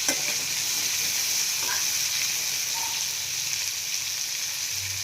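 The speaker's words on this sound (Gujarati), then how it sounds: "સરખી રીતે આપણે આ બધું મિક્સ કરી લઈશું" Spices being stirred into a dried chickpea curry in a pan over a medium flame, giving a continuous soft sizzle and hiss with faint scraping from the spoon.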